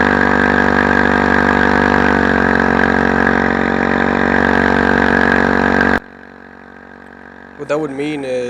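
A homemade paramotor engine with a 2.5 reduction drive runs loud and steady, the propeller spinning at high RPM in a constant droning whine, then cutting abruptly to quieter ambience before a brief rising mechanical sound.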